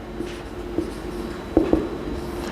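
Marker or chalk writing on a board in a classroom, a few short scratchy strokes and taps that sit close and moderately quiet over faint room noise.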